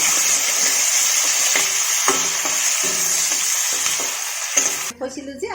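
Ingredients for an Assamese fish curry with raw banana sizzle loudly in a pan, with spatula stirring strokes scraping through the steady, close frying hiss.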